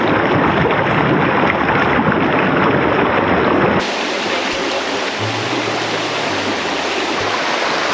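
Water rushes steadily and loudly close by, a constant broad roar of flowing creek with no voices.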